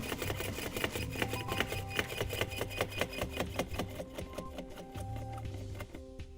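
A hand pump is worked on a 10-inch suction vacuum mount, giving fast, steady, rhythmic mechanical strokes, close and loud, with no voices.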